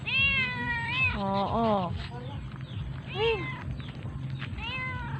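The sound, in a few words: cat meowing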